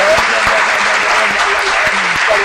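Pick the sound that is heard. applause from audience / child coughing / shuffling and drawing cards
applause from audience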